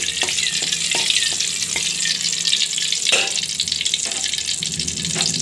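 Hot tempering of mustard seeds, cumin, dals and dried chillies sizzles with ponaganti leaves in a pan, a loud, continuous close frying hiss with occasional clinks and pops.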